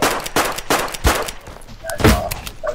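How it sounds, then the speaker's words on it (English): Several loud, close gunshots from the video game Deadside crack in quick succession, with some blasts ringing out and fainter shots landing between them. "Trying to shotgun me?"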